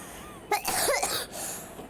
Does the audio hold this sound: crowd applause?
no